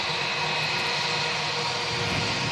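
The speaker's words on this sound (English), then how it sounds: "as this British Airways aircraft vacates the runway" British Airways airliner taxiing off the runway at Manchester Airport, a steady broadband engine roar and whine, continuous and fairly loud with no pauses.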